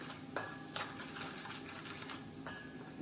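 A spoon stirring spices into an amla and green chili pickle, with soft scraping and a few sharp metallic clinks against the vessel, close up and without talk.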